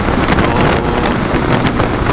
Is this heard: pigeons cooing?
no